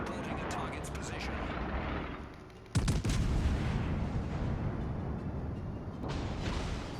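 Naval gun volley from a battleship in a warship game, a heavy booming blast that cuts in abruptly after a lull and rolls on as a dense roar, with a voice speaking in places.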